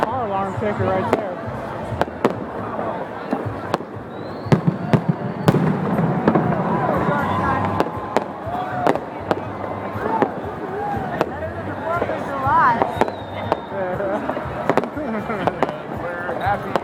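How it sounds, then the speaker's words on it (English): New Year's fireworks burst outdoors in freezing 10-degree weather in Reno, Nevada, with repeated sharp bangs and crackles at irregular intervals, near and far, while people chatter and cheer. "We're out here in 10-degree weather watching the fireworks."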